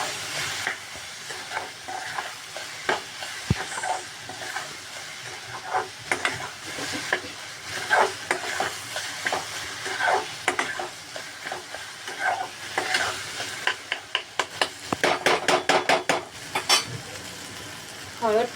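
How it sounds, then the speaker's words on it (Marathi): Onion and tomato being stirred and mashed in a pan, with repeated clinks and scrapes of a spoon against metal over a soft sizzle, the strokes speeding into a quick rattling burst near the end. "कांदा टोमॅटो मॅश झाला."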